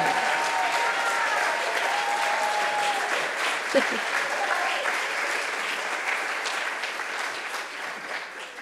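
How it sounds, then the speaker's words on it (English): Sustained audience applause for business plan competition finalists as they stand, a broad steady clapping that gradually thins toward the end, with a few voices and a whoop mixed in. "could you please stand so we can give you a round of applause?"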